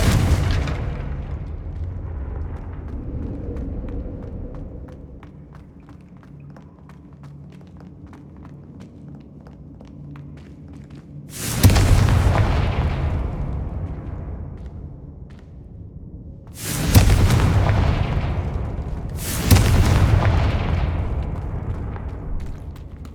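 Three heavy blasts from the Confringo spell in Hogwarts Legacy burst out one after another, each a sharp loud boom that rumbles away, with softer footsteps and ambient game noise in the quieter stretch before them.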